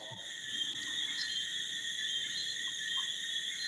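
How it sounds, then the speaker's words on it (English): Crickets chirp steadily in the distance, a continuous layered high trill that holds evenly throughout with no voices over it. "we just hear the crickets now"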